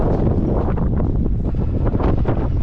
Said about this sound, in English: Sorry for the noise and the wind